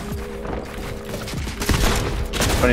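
Rapid gunfire crackles in a Fortnite Reload match, a dense run of overlapping shots and booms over game sound, growing louder toward the end.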